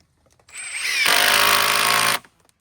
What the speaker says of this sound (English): Love how well these screws go in.